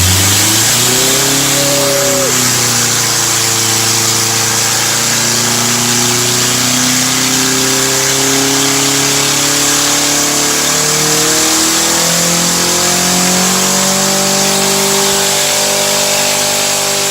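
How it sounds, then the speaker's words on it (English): A Honda Civic's engine revs hard and loud during a burnout, its pitch climbing and falling in repeated sweeps as the throttle works, with tyre and exhaust roar holding steady underneath for the whole stretch. "we're getting lined up to do a burnout on the Civic"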